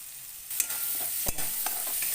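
Masala spice paste sizzles and fries steadily in hot oil in a pan for a village-style tilapia fish curry, with a few scraping stirs of a spoon cutting through the continuous hiss.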